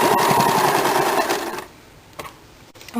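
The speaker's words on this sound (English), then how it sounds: "Now I am doing the side seam complete the machine seam for" Sewing machine running fast on a blouse side seam, a loud close rapid mechanical stitching whir that stops after about a second and a half, leaving faint clicks and handling noise.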